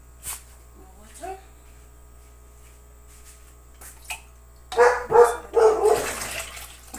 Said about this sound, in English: It's every time that I'm videoing that they come to talk, that they bark.